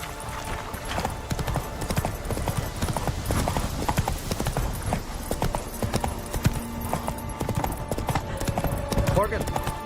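Horse hooves clip-clop at a steady gallop in The Witcher 3 video game, loud and continuous, with game music or ambience and a voice speaking over the hoofbeats.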